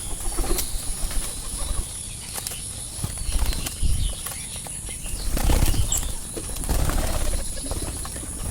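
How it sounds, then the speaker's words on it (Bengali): Pigeons flap their wings in morning exercise, a dense repeated whirring and fluttering close by, with a few louder surges and no talk. "সকালে কবুতরের ব্যায়াম"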